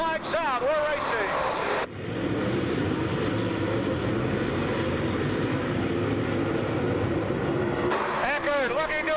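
Dirt track race cars roar off the fourth turn onto the green flag at Kankakee, a loud sustained engine surge under excited announcer commentary that begins and ends the stretch.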